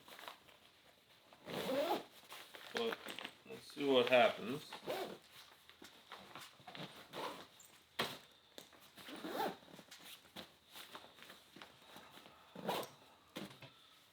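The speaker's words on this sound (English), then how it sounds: "Now we're getting to the limits of the zipper here." A zipper rasps in several short pulls across an overstuffed 30-liter MLC travel backpack packed to the limit, with someone talking between and over the zipping at close range.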